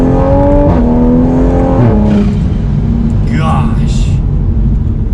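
Tuned Toyota A90 Supra (Mark V, rear-wheel drive, about 450 wheel horsepower) accelerating hard in second gear from inside the cabin, a loud droning engine note climbing in pitch with a shift-like break, heavy low rumble throughout.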